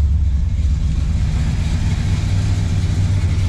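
A 1965 Pontiac Tempest GTO clone with a 455 H.O. engine and dual exhaust runs at a steady idle, a loud, close, deep rumble that holds even throughout with no voices.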